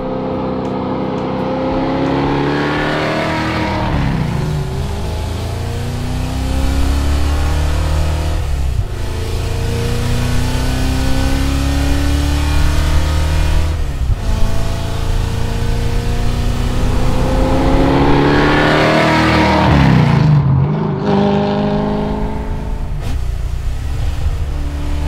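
A 1966 Shelby GT350 replica driving on the road with its engine rising in pitch through repeated accelerations and gear changes, loud and close from inside the car, with no talk.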